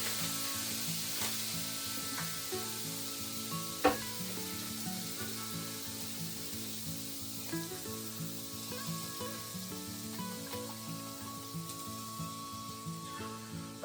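Beef sizzling in a pan, a steady soft hiss with scraping stir strokes and a sharp clack partway through, heard over a bed of background music.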